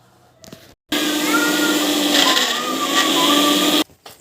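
A mixer grinder blends a natural sweet mixture, its motor bursting into a loud, steady whir that holds for about three seconds before cutting off abruptly, with no talking.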